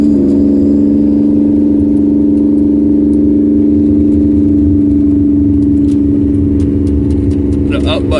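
Vehicle engine holding a steady, droning revving tone while driving slowly up a gravel road, loud and continuous with light rattles near the end.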